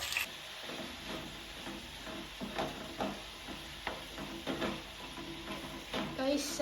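Fried rice sizzling in a pan at a family New Year celebration, steady frying hiss broken by repeated rhythmic scrapes of stirring, fairly close, with faint talk in the background.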